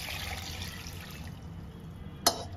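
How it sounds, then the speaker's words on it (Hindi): Water poured over chickpeas with salt for boiling, a faint, soft pouring and trickling in a kitchen, ending in one brief clink. "अब हम डालेंगे इसमें पानी"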